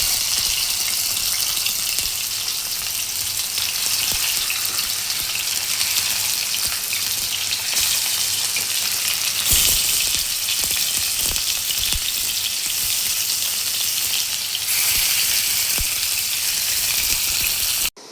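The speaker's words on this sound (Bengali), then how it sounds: "এখন এখানে মাছগুলো ফ্রাই করে নিব" Tuna fish frying in hot oil in a wok, a steady loud sizzle that crackles without a break, with a brief clatter partway through and no talking.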